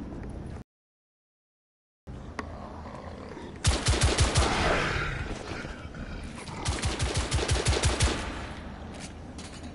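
Enemies in the video game The Order: 1886 open fire, with rapid, close, rattling bursts of automatic gunfire in two main volleys. The shots stand alone after a brief silent gap near the start.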